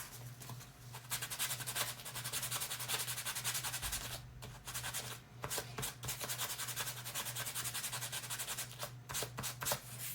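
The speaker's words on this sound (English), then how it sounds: "I'm gonna sand this muzzle a little bit because it has a little bit of a rough cast to it." A rough cast muzzle, painted and shaded, sanded by hand, giving rapid rhythmic scratchy rubbing strokes close up, broken by a few short pauses, over a low steady hum.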